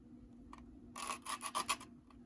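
Sandpaper rasps back and forth across a small LEGO train part, a single short scrape followed by four or five quick, close strokes against a low, quiet hum.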